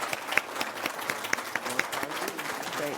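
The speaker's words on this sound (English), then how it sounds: "So big round of applause to all of our winners tonight and honorable mentions" Modest audience applause rings out at a digital inclusion awards evening in Nova Scotia: steady, scattered clapping from a smallish room at moderate distance, with faint voices murmuring underneath.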